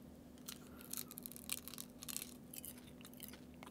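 Close, quiet crunching as someone chews a crisp black croissant cake, with irregular dry crackling bites over a few seconds and no talking.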